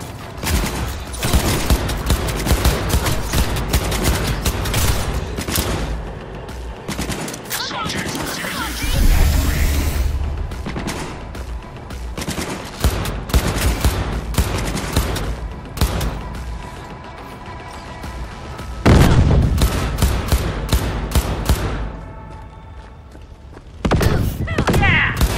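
Sustained bursts of enemy gunfire in Cyberpunk 2077, rapid volleys and heavy thuds continuing loudly throughout, with a few short gaps and a deep impact around the middle.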